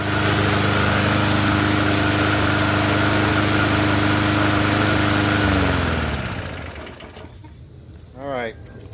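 A Poulan push mower engine runs loud and steady while warming up, its buzzing drone holding for several seconds before winding down and cutting off, followed by a brief voice in the quiet.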